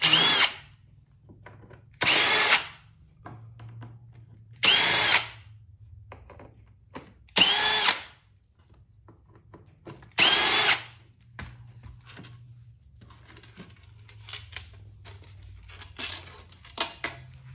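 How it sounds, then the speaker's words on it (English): A power drill backs screws out of the plastic casing of a Firman 2100i inverter generator: five loud, close whirring bursts spaced a few seconds apart, with quieter handling and rattling between them. "So next, remove these 5 screws."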